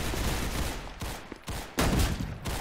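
Rapid bursts of AK rifle fire from a Roblox CS2-style shooter, close and loud, with a short pause and then a heavier volley near the end.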